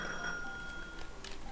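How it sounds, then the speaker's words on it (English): Phone ringing in the Gemporium shop tycoon video game, a bright electronic bell-like trill sounding in short bursts over a steady background music hum, faint and without speech. "The phone is ringing again."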